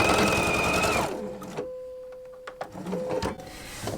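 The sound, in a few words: sewing machine stitching on a leader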